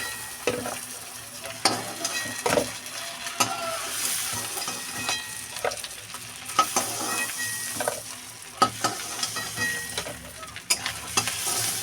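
Spice-coated prawn heads fry in a pan with a continuous crackling sizzle, broken by repeated sharp clinks and scrapes of a spatula stirring them, close and fairly loud.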